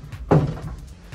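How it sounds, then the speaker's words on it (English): A sliding folding door in a rental property under renovation gives a single sharp thunk as its panels knock together, followed by faint low rumbling and light knocks as it settles. "So now we have these cool sliding foldable doors."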